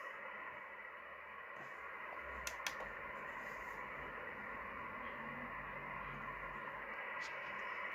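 Faint, steady radio static hiss from an Icom IC-R8600 receiver with noise reduction on, muffled and filtered, continuous throughout with a few small ticks.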